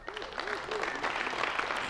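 Audience clapping at a keynote presentation, a short burst of applause with voices underneath.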